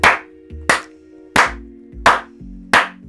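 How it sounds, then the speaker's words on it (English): Five loud, sharp hand claps spaced at roughly even intervals, each a crisp close crack with a brief ring-out, and a faint low hum between them. "I'm not sure how good can this mic like record my clap"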